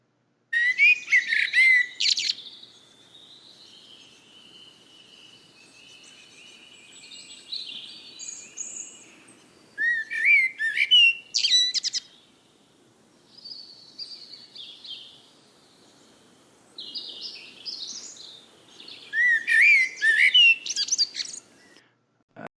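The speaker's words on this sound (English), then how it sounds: "it's still pictures with different bird sounds" Bright chirps and tweeting songs come in three busy bursts, with softer scattered calls between them, all fairly close and clear.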